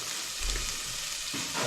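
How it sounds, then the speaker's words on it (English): Chili and bay leaves fry with onions in a pan, a brief, close, steady sizzle with a soft stir partway through. "I'm just gonna fry it with onions"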